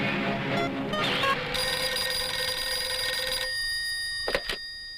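A police station telephone bell rings in a steady electronic trill, fairly loud and close, then cuts off with a couple of clicks.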